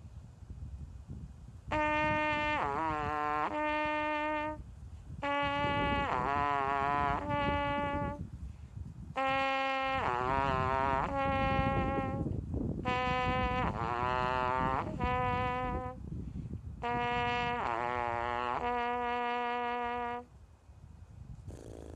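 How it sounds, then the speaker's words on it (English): A trumpet plays low buzzy octave lip slurs in the pedal tone range starting on F, sustained tones sliding up and down in repeated phrases separated by short breaths. "do some lip flexibilities or lip slurs, octave slurs in the Tier 1 pedal tone range, starting on F."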